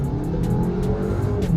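A Stage 1 Fiat Punto Abarth and a VW Tiguan Allspace accelerate hard side by side in a roll race, engines roaring loudly and close with a rising rumble and brief high whines and chirps over the top.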